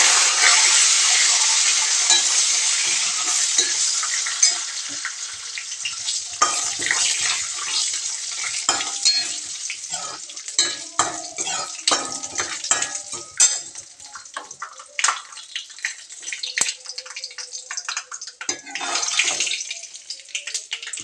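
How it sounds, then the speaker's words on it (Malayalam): Dried red chillies and curry leaves stirred into a curd curry in a pan, a loud steady sizzle at first that thins out into scattered scraping and clinking of the spoon against the pan, with no talking. "രണ്ട് ഉണക്കമുളക് നമ്മളത് കൂട്ടി ഇളക്കണം"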